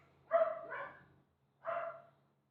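A pet dog barks twice outdoors during garden potting work, a longer double-bark burst followed a moment later by a single bark, fairly close and clear, with no talk.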